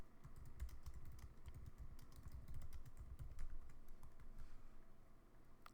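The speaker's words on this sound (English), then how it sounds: "I'm going to type" Fingers type on a computer keyboard in quick, continuous clattering bursts of close key clicks, with no voice over them.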